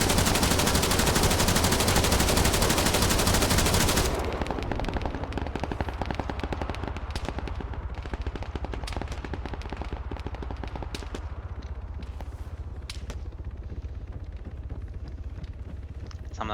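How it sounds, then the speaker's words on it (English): Heavy gunfire in the Arma 3 video game: a dense, loud burst of automatic fire at the start gives way to a long run of sustained rapid shots and scattered cracks, continuing steadily throughout. "I'm taking heavy fire now."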